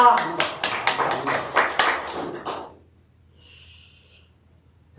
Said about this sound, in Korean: 이럴 때 박수 한번 내야 되겠죠